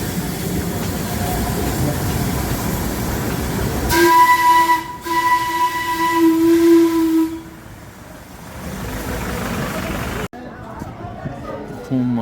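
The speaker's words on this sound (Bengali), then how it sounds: "toy train" Darjeeling toy train running at Ghum, its steam whistle sounding long and loud with a steady tone over chugging rail noise, then cutting off as the train rumbles on; a voice talks at times.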